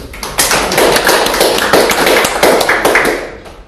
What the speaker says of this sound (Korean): 일단은 박수 한번 치고 시작하도록 하겠습니다